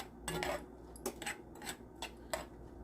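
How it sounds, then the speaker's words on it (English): Garlic being stirred in a preheated pan, the utensil scraping and tapping the metal in short, irregular bursts that are faint and close, with no talking. "I constantly stir it because I don't want it to stick, especially with the garlic being in there"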